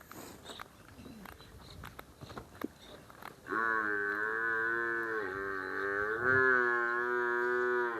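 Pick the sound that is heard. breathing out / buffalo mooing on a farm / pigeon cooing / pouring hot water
buffalo mooing on a farm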